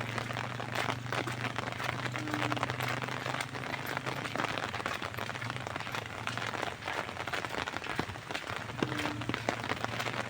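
Steady rain patters and hisses on surfaces, a constant dense wash of droplets with no voices.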